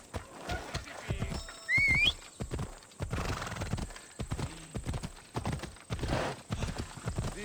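A horse gallops in Assassin's Creed Odyssey, with steady clip-clop hoofbeats throughout and a loud whinny near the start, all over busy game ambience.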